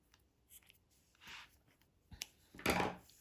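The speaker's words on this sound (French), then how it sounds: "je coupe le fil." Scissors snip through crochet yarn while finishing a beaded crochet top, a few short faint cuts ending in one louder, longer snip, alone in a quiet room.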